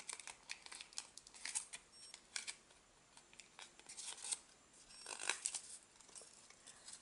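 Paper being folded and creased into an origami butterfly, giving quiet, close crinkles and soft scraping rustles in scattered bursts, with no talking.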